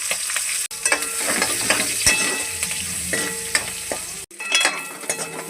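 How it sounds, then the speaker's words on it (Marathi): Sliced onions frying in hot oil in a pan, a loud continuous sizzle with crackling and scraping stirring, briefly cut twice, no voices. "तेलामध्ये टाकू कांदे"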